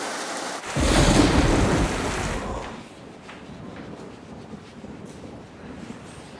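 A thunderstorm opens with a loud, rolling thunder crash that booms for about two seconds, then fades into steady, moderate rain hissing on surfaces for the remainder.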